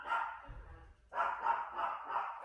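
A dog named Charlie barks outdoors, a couple of sharp barks separated by a short pause, fairly distant and moderately loud.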